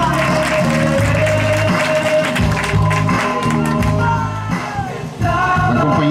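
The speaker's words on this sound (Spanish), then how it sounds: "Un fuerte aplauso para el compañero." Audience applause at an outdoor community well inauguration, loud continuous clapping mixed with crowd noise and a sustained musical tone underneath, easing near the end.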